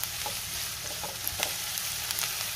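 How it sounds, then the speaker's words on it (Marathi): Onion and green chili frying in hot oil in a pan, a steady close sizzle with small crackles and occasional stirring clinks. "तेल गरम झाले, हिरवी मिरची घालूया. त्यातच आपल्याला कांदा घालायचा आहे."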